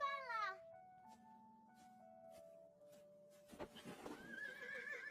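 A stubborn horse in an animated fantasy drama gives a short, descending whinny at the start. Sustained musical tones and some rustling movement follow, with no talking.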